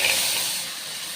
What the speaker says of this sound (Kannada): ಫ್ರೈ ಮಾಡ್ತ ನೋಡು